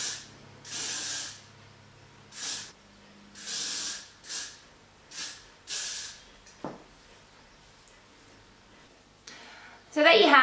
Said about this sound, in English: I'm using Fudge Urban Texture Blaster to keep this in shape